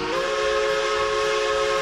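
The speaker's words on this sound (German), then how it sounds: "Wir können ja hier den Sound von der Pfeife anpassen." A loud, sustained locomotive steam whistle sounds from the train simulation game Railroader, one long steady multi-tone blast held throughout at close range.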